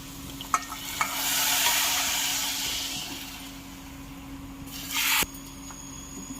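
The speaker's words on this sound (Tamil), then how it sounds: "இதுவும் எண்ணெயில் வந்து நல்லா பொரியட்டும்." Coriander powder fries in hot oil for a mutton kuzhambu, a loud, steady sizzle with stirring, a couple of sharp utensil clinks and a brief surge of hissing near the end.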